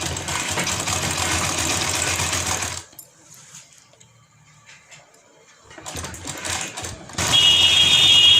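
Sewing machine stitching a strip of fabric for a kurti, a steady close mechanical whir that runs, stops for a few quiet seconds, then starts again and grows louder to the end.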